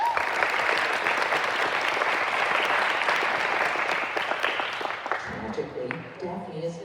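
An audience at a Poetry Out Loud competition claps steadily for the winners, dense even applause that holds for about five seconds and then fades, with a voice starting to speak as it dies away.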